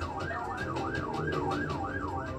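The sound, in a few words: police car siren switched on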